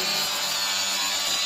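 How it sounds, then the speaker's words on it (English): A flap wheel grinds rust off car bodywork, giving a steady, loud abrasive rasp that holds without a break through the short stretch, close to the tool and with no voices. "So your next step is a quick little run with the flapper wheel."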